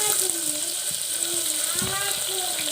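Chopped onions sizzle steadily in hot oil, a close, even frying crackle with a few faint clinks and soft stirring noises running underneath.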